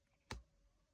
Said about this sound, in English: A dull click.